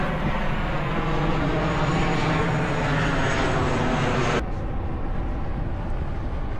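A fixed-wing airplane passes overhead on approach to a landing runway near Poros, Greece, heard from a sailboat under sail, a loud sustained engine drone that cuts off abruptly partway through.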